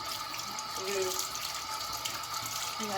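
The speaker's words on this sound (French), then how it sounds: "moi je vais me relaver un peu les mains parce que je vous dis, j'ai horreur de cette sensation d'huile sur les mains" Hands being washed under a running kitchen tap to get frying oil off them, a steady close splash of water with a slight rise in flow partway, and no talking.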